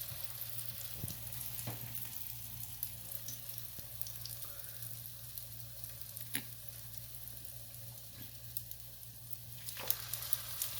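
Sesame-topped potato parcels shallow-fry in about two tablespoons of oil over a low flame, a quiet, steady sizzle with a few faint clicks and taps scattered through it, under a low background hum.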